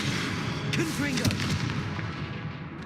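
A Confringo fire-blast spell in Hogwarts Legacy, booming impacts and crackling bursts over dense combat noise, with a voice speaking briefly underneath.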